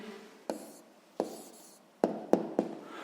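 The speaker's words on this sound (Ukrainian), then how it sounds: "Ну що ж, записуємо тоді відповідь" A pen scratches out the answer to a sixth-grade math exercise on paper in five quick, close strokes and taps spread over a few seconds, quiet against a soft room hiss.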